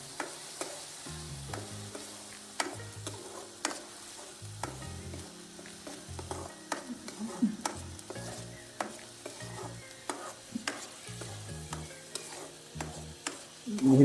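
Tomato puree for a fish curry frying and being stirred in a pan, a constant sizzle punctuated by repeated spoon scrapes and clicks, with a low background hum.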